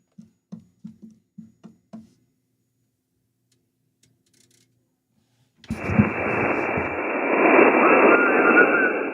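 A few soft clicks, a pause, then a loud, steady rush of radio static hiss, S9 noise level on an Icom HF transceiver, fills the rest of the clip.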